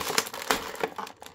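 An X-Acto knife slicing through the packaging of a NECA Ultimate Creature From the Black Lagoon figure, with close, loud scraping, crinkling plastic and cracking snaps in quick uneven bursts.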